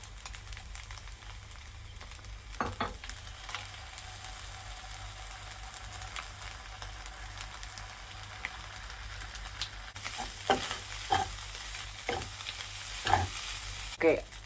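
Noodles stir-fried with oyster sauce in a pan give a constant close sizzle, with several sharp scraping and tossing knocks of the utensil growing more frequent toward the end, no talking.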